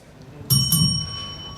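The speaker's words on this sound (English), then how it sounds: "And this bell is the most widely traveled bell" A bell rung to time talks at a Mamluk studies conference in Beirut strikes twice in quick succession, ringing out clearly with a bright metallic tone that decays over the following second in a quiet room.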